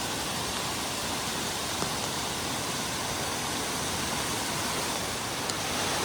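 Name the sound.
waterfall on a rainy winter hike, Sultan River Canyon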